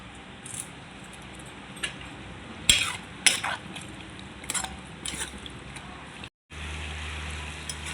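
A spatula stirs a simmering tomato and broad bean curry finished with curry leaves in a pan, producing scraping clatters and knocks over a faint sizzle, ending with a brief break and a low steady hum.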